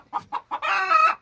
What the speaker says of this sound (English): That's a chicken letting you know that she's got things to do.